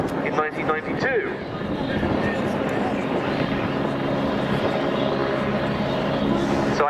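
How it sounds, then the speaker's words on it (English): A Belgian Air Force Agusta A109 military helicopter at the Cosford 2019 air show hovers and descends, a steady, loud rotor and engine drone that holds throughout under a commentator's talk. "The aircraft in a high hover, steep nose down descent."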